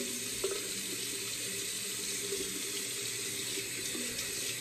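Hot water runs steadily from a tap, a constant soft hiss and splash with a faint high whine, with no talking.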